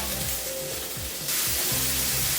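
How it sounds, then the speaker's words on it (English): Mushrooms frying in a pan, giving a continuous close sizzle that grows noticeably louder and hissier partway through. "I'm going to let this cook up until the mushrooms have really softened up and reduced in size and got just a little bit crispy and brown."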